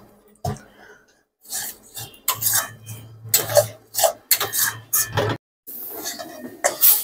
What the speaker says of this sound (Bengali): নুন দিয়ে আমি ভালো করে নাড়তে থাকবো